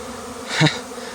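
A single honeybee from a large swarm clustered on tree branches buzzes close past, a brief rising and fading hum over a quiet background.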